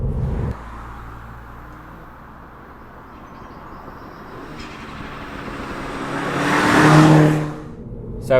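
A Mini Cooper S F56 on Bilstein B16 coilovers drives along a country road, its engine and tyre noise a steady low drone that swells into a louder roar near the end before easing off.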